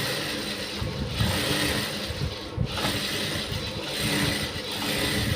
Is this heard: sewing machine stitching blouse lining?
yes